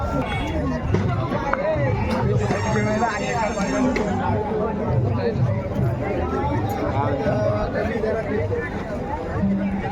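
Dense crowd chatter at a crowded historic Aryadurga Devi temple fair in Konkan, many overlapping voices close around amid stalls, steady and loud throughout with no pauses.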